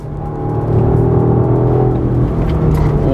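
A Jaguar XE P300 R-Dynamic facelift hums from inside the cabin, a smooth steady engine drone with a slight rise under acceleration, moderately loud, likely artificially enhanced, with no talking.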